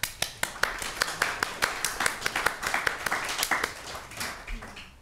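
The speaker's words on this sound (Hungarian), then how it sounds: "egy tapsot megérdemel" A small group claps for a disciple at a Zen temple, with sharp distinct handclaps at first that thicken into looser, uneven applause before fading.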